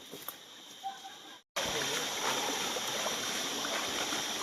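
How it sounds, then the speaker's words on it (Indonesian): A forest river stream flows with a steady, full rushing wash that comes in abruptly after a brief quieter stretch with faint sounds, continuous and close. "ini ya aliran sungainya cukup indah juga"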